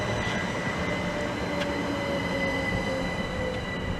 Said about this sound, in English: the 1304 Great Western Railway service from London Paddington to Didcot Parkway